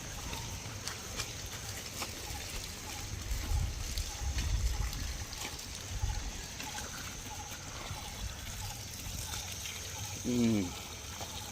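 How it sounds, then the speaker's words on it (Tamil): Water poured onto fruit-tree plants at a home garden in Jaffna, trickling and splashing softly in a faint, steady flow with no one talking. "தண்ணி விட்டாச்சு"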